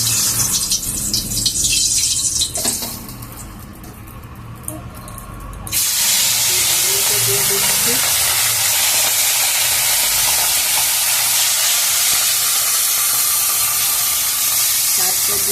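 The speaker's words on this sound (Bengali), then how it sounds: "মাছটাকে দিয়ে ভেজে নেবো" Hilsa fish slid into hot oil for frying set off a sudden, loud, continuous sizzle that holds steady for the rest of the clip after a quieter start.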